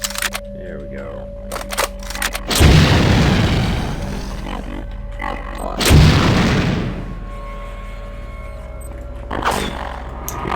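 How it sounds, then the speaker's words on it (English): Two heavy, booming blasts from grenade explosions in System Shock 2 erupt a few seconds apart, each loud with a long rumbling decay, separated by quieter in-game ambience and small clicks. "Apparently that was a stealth grenade, because he didn't notice getting grenaded like that."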